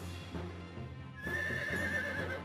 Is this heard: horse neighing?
yes